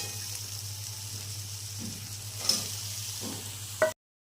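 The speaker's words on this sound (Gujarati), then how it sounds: "બરાબર હરાઈ લેશું." Ridge gourd curry frying in a pan gives a soft, continuous sizzle. A spoon stirs and scrapes it in a few brief strokes, the last one sharp and close.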